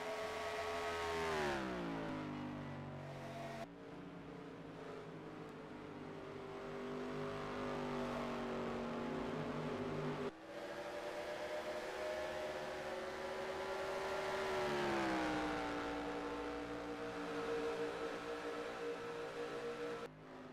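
Race cars running laps during a green-flag run in a racing league final, engines droning with rising and falling pitch as they accelerate and lift, fairly faint and with no talk.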